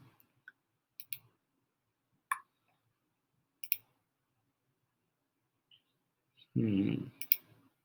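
A computer mouse clicks while someone works in SketchUp, making sparse, sharp single and double clicks scattered across quiet moments, followed by a brief stretch of a man's speech.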